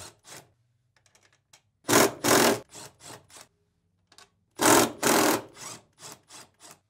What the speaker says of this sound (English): Now, using a 3/8 socket, remove these four bolts.